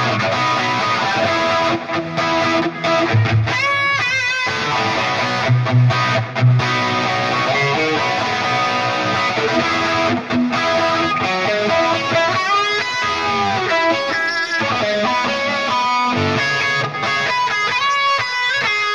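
Distorted electric guitar from a Telecaster run through a Line 6 POD GO Plexi amp preset, played alone and up close with busy riffs and strummed chords, loud and steady throughout.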